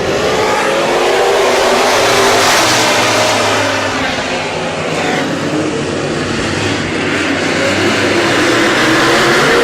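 Modified race cars roar off the green flag at the Merritt Speedway, a dense, loud wall of engine noise that swells and holds steady as the pack accelerates, with a faint voice underneath.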